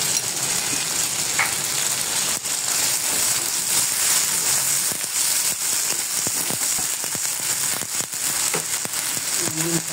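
Ginger and garlic paste sizzle in hot oil with cinnamon and cardamom, a loud, continuous frying hiss broken by frequent sharp crackles and pops, up close and with no talking.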